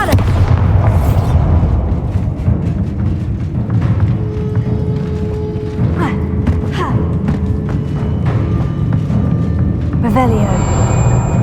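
Bombarda explosion spells cast in the Hogwarts Legacy video game, booming thuds and bursts over a dense, loud game soundscape, with a voice shouting the spell names.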